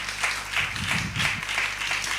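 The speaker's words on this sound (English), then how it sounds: "Keep clapping, please." An audience claps after a live poetry performance, a short stretch of moderately loud applause.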